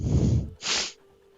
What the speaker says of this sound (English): I have the sniffles.